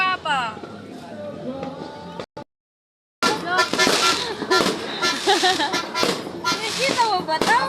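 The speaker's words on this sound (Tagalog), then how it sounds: "Fireworks! Putok ni Papa!" Sharp bangs and crackling bursts of fireworks erupt repeatedly, loud and close, mixed with excited shouting voices after a brief silence.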